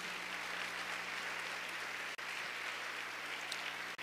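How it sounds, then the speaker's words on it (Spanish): Church congregation applause fills the room as a continuous, even patter of many hands clapping, fairly faint and steady for a few seconds. "¿Le puedes dar un fuerte aplauso a Dios ahora sí?"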